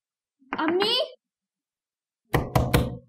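Several hard knocks strike a closed door in a home, following a voice calling out moments earlier; the raps come close together, loud and near.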